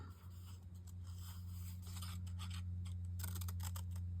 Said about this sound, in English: So, I'm just going to semi-fussy cut it.